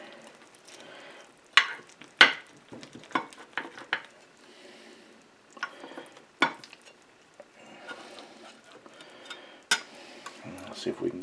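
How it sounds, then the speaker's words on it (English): Baked ravioli lasagna is dug out of a hot pan, with sharp scrapes and clinks of a utensil against the pan, scattered knocks and soft rustling, and a voice talking quietly in between. "Let's see if we can get a scoop of this out"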